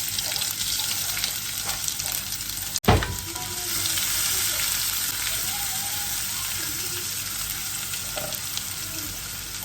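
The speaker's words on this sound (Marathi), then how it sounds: "त्यानंतर जिरे मोहरी टाकायचे त्यानंतर कढीपत्ता कांदा टाकायचा आहे" Cumin, mustard seeds, curry leaves and onion hit hot oil with asafoetida, giving a loud, steady hissing sizzle with a sharp burst as ingredients drop in, plus light stirring.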